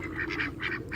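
Several ducks quacking nearby in a quick, steady run of nasal calls, loud and close with little else around them.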